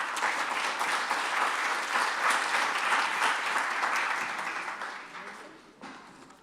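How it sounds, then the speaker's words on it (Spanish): A seminar audience gives sustained welcoming applause for the host, dense even clapping that holds for several seconds and then thins out and fades toward the end. "le damos un gran aplauso de bienvenida"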